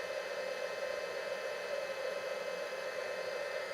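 Steady, even blowing hiss of a heat tool running continuously on a craft project, a close, constant whoosh with no talking over it.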